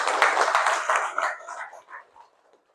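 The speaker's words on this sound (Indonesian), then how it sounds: "Tepuk tangan untuk kita semua dulu" Applause from a school assembly crowd, a dense burst of clapping that fades out over a couple of seconds, fairly close and with no talk over it.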